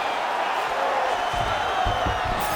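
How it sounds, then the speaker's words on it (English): Arena crowd in EA Sports UFC 5 roaring and cheering during a fight, a steady wash of noise with a few louder swells and thumps, while a commentator talks over it. "So the crowd absolutely loving it as these fighters work their way back to the feet."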